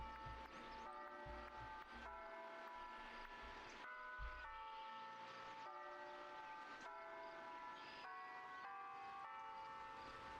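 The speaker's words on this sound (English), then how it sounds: "Did y'all just hear the chimes going off in the game?" Chimes in the Disney Dreamlight Valley video game: soft, sustained bell-like tones ring and overlap in a slow sequence, quiet and steady throughout.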